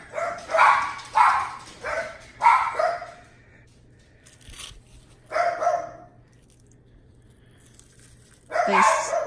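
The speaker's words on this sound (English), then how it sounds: "I apologize for my dogs barking" A dog barks in short bursts, several quick barks, a pause, then more barking, fairly close with quiet gaps between.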